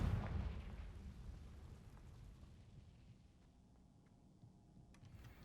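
A Confringo fire spell bursts in Hogwarts Legacy, a deep booming explosion at the start that rumbles and fades away into quiet over several seconds.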